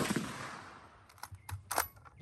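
A Carcano M1891 long rifle fires a single sharp shot at 100 yards on an outdoor range, followed by a fainter report and a few clicks.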